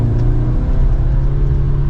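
A 2023 Audi S3 Premium Plus pulls away gently in comfort mode, its engine giving a steady, moderate low hum and rumble heard from inside the cabin for two seconds.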